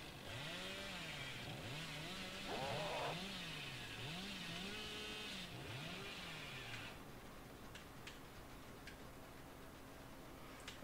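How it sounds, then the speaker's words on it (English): A chainsaw in a video game revs repeatedly in rising and falling swoops, loud and close, then settles into a steady idle with faint clicks. "Well, this is a chainsaw."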